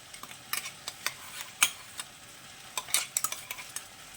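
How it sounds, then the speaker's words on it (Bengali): Lentil paste and shrimp paste are mixed together by hand, giving soft, intermittent wet squelches and slaps, quiet and irregular, with no talking. "দিয়ে এই দুটোকে আমি একসঙ্গে ভালো করে মিক্স করে নেব। এটাকে ভালো করে হাত দিয়ে এরকম করে ফেটিয়ে নেব।"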